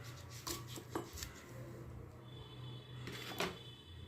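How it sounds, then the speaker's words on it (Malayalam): A knife chops a green chili on a board, a few sparse, soft, close taps over a low background hum, with no talking. "ഞാനിതിലേക്ക് ഒരു പച്ചമുളകാണ് ചേർത്തെടുക്കുന്നത് കേട്ടോ. ഇങ്ങനെ അരിഞ്ഞു കൊടുക്കുന്നത് കേട്ടോ."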